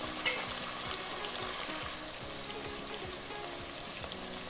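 Slender drumsticks and vegetables are mixed in a pan, a steady sizzling hiss with a regular series of soft scraping strokes from a stirring spoon, close and fairly quiet.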